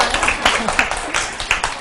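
A small group of students in a Korean community health nursing lecture claps at the start of class, brief loose clapping with a few louder individual claps, fairly close.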